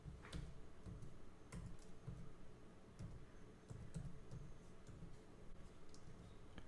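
Fingers type on a computer keyboard, giving quiet, irregular key clicks that come in short bursts over a low steady background hum.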